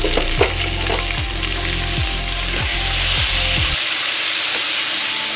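Garlic paste hitting onions already fried red in hot oil, giving a steady, loud sizzle with a few scraping stirs.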